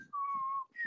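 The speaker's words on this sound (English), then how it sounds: "You were whistling for us." A person whistles a short sustained note that glides slightly, then rises to a higher note at the end, soft and close with faint background noise.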